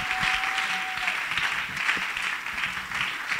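A church congregation claps steadily in dense, continuous applause that fills the space, with a brief held tone early on and no clear speech over it.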